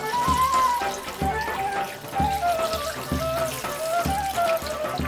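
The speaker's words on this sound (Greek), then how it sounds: "Νεράκι, ίσα ίσα να το σκεπάζει, σχεδόν να το σκεπάζει" Water pours from a tap into a cooking pot of pork being prepared for outdoor wood-fire boiling, a steady close splashing stream with pulsing gurgles and no talk.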